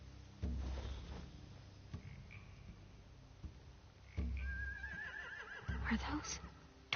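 Horses in a PS4 video game give a whinnying neigh with a wavering trill, along with scattered thuds and shuffles, while a player talks quietly over the game sounds.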